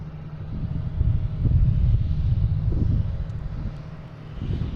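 An Air Canada Embraer E175 jet bound for Toronto at Boston Logan airport, a steady low engine rumble and roar swelling slightly mid-way, heard from a distance with some wind.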